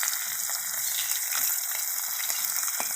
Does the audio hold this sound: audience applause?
no